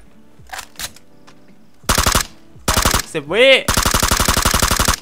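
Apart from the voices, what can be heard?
gunfire in the video game PUBG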